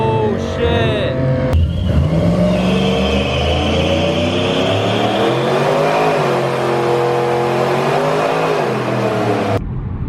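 Several car engines rev hard and roar at a rowdy Southern California street car meet, loud and close, with rising and falling pitch over a continuous rumble of the crowd.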